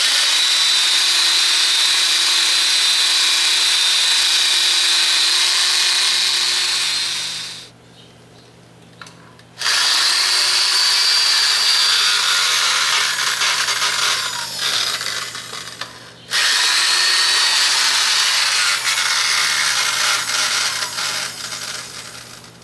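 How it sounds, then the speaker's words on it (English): Rotary grinder fitted with various coarse and fine attachments shaping wood in a shop, running in three long loud bursts with brief pauses between them. "I'm using multiple different kinds of grinder attachments"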